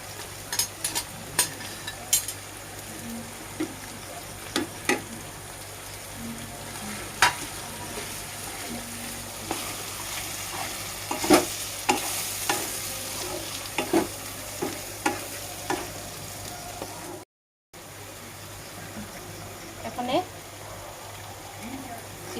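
Chicken masala paste for Kashmiri chicken masala sizzles and fries in a pan as tomatoes and spices are stirred in, with steady frying hiss and frequent clinks of the spoon throughout.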